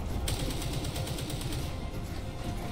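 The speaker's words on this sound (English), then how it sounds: "That machine gun is even stronger now." A machine gun in the video game Helldivers 2 fires in a steady rapid rattle under a low rumbling battle din, continuous and fairly loud for nearly three seconds.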